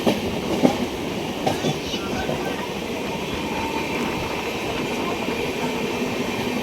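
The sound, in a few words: train running on rails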